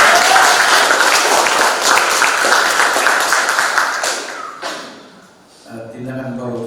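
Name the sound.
students applauding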